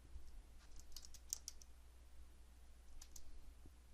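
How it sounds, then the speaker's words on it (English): Someone types on a computer keyboard into a search box, producing scattered light key clicks in short bursts over a quiet background hum. "I simply click in the search box and type what it is I'm looking for."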